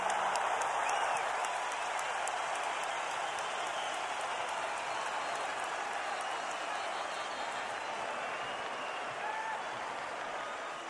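The crowd of 12,500 at the Cotto vs Margarito boxing fight applauds steadily after a round, a dense, distant wash of clapping and cheering that holds for the whole stretch.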